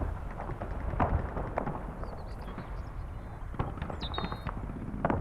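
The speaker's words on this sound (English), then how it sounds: "Mortar rounds going out." Mortar rounds fire in the World War II strategy game Combat Mission: Battle for Normandy, with a series of muffled, distant popping thumps spread across several seconds over a low battlefield rumble.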